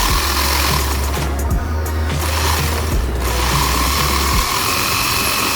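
An RC drift car's electric motor and gears whir continuously up close under throttle, the pitch rising and dropping as speed changes, with no one talking over it.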